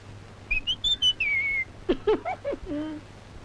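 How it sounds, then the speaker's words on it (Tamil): A person whistles a short rising and falling melody, then a series of sliding, chirping whistled notes follow, close and fairly clear over a faint steady hum. "நீங்க விசில் அடிக்கலாம்"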